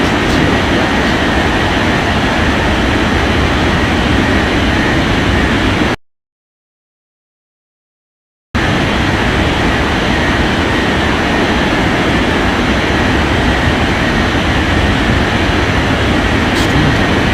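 An airliner takes off in an air traffic control video game, a loud, continuous engine roar with a brief total dropout partway through.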